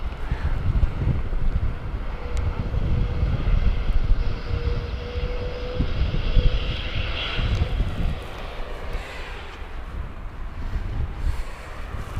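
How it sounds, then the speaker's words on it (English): A Norse Atlantic airliner making an immediate takeoff at Gatwick Airport, its engines a steady, loud broadband roar with a faint whine, heard alone under wind buffeting on the microphone. "Norse giving an immediate takeoff here"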